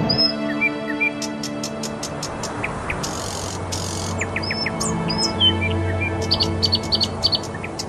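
Birds chirping in the hills, many short tweets and calls scattered throughout over a steady outdoor background, with no speech.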